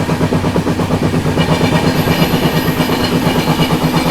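A train with a high-capacity parcel van rolls steadily past on a North East India rail route, producing a continuous loud rumble and a rhythmic clatter of wheels over rail joints with no pause.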